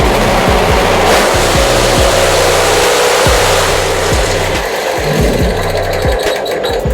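A hydraulic brick-making machine runs loud and close, a steady mechanical drone with repeated rhythmic clanking strokes and thumps as the automatic feeder fills the mold, with no voices over it.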